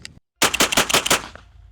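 A Benelli M4 semi-automatic shotgun rips through a fast string of about six or seven close, loud shots of Winchester White Box shells, one after another with no pause, after a brief click and a moment of silence.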